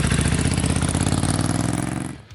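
A Ducati 900 SS Bevel Drive V-twin motorcycle engine runs loud and close with a rapid, lumpy pulsing beat, then cuts off abruptly near the end.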